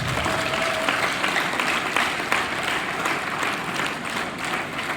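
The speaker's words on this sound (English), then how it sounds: "let us give every black man a resounding round of applause" A crowd at a public address by the Ooni of Ife gives a resounding round of applause, a thick, steady roar of many clapping hands lasting around five seconds, with a few sharper claps standing out and no speech on top.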